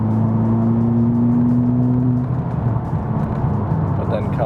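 A 2017-2019 Honda Civic Type R with an MBRP resonator kit downshifts at highway speed, its exhaust giving a deep droning burble that shifts pitch as revs change, steady under someone talking inside the car.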